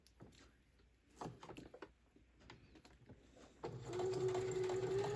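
A sewing machine chain stitches a cosmetic pouch, starting after some soft handling clicks and rustles and then running steadily with a close, whirring hum to the end.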